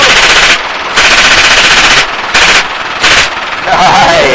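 Loud, close bursts of automatic fire from an M249 SAW at an outdoor range, four separate volleys of varying length with short gaps between them, and a faint ringing tone at the end.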